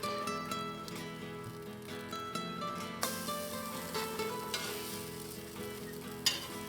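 Mussel and prawn fritters sizzling in a hot pan, a steady bright crackle of frying oil throughout, with a louder burst of spitting partway through and a few small clinks.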